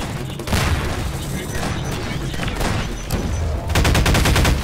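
Grenade explosion and gunfire in Garry's Mod during a zombie survival mode: a loud blast opens a dense stretch of noise, followed by a fast burst of rapid shots near the end, with voices mixed in.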